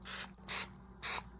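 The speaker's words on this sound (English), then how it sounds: "I'm gonna give them a little bit of a spray" Cooking spray misted over black bean veggie burger patties before baking: three short hissing bursts, close and loud, separated by brief pauses.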